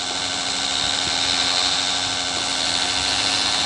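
A propeller airplane in a mobile video game drones steadily and loudly throughout, a dense engine buzz with no pauses and no talking over it.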